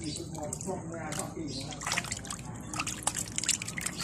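Hands wash something in water during rustic southern Isan cooking of frogs, with splashing, dripping and trickling close by while someone talks over it.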